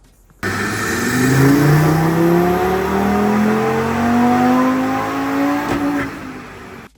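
An Audi 8Y RS3 engine with Racing Line, Milltek and IE aftermarket exhaust parts roars and revs steadily up close, its throaty exhaust rising in pitch through several climbs before easing off near the end.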